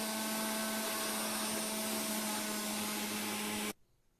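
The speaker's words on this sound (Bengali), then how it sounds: "এখানে মটরশুঁটি পিষে নিচ্ছি।" An electric grinder pulverizes green peas for dinner, a loud steady high-pitched motor whine running continuously for several seconds before cutting off abruptly.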